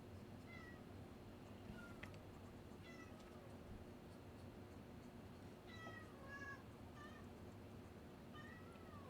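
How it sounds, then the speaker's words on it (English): Pet cat Zuzu meowing repeatedly at home, several drawn-out, slightly rough calls spaced across the stretch, faint and fairly distant over a low steady background hum. "The way she's meowing, she's starting to sound a little like Chewbacca."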